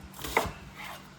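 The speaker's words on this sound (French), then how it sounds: "Donc vous allez prendre vos oignons, vous coupez en gros" Knife coarsely chopping onions on a cutting board for birria tacos, a single sharp chop followed by a softer second cut, close and isolated with no talking.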